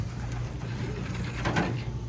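Racing pigeons coo in a training cage, with low, steady murmuring coos running through the clip close by and a soft scrape or rattle near the middle.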